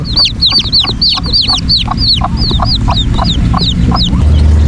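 Newly hatched Black Australorp chicks peep in rapid, high chirps, close and loud, over a low background rumble.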